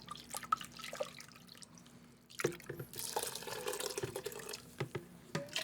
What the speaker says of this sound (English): Put some water in this and just rinse it out.